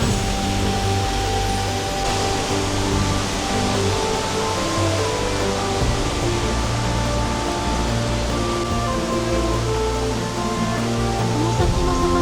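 Uryu Falls in the Nakatsu Gorge, Kochi, Japan, rushes as a loud, constant roar of churning water that stays close and unbroken throughout.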